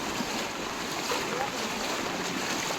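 Floodwater from a river rushes across a road through a submerged market, a steady, even torrent of broadband roar with no breaks.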